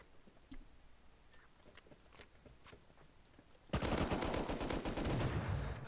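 Rapid-fire gunshots in a video game raid on a small oil rig: scattered single shots and ticks at first, then a sudden loud, sustained burst of automatic fire filling the rest, with no talking.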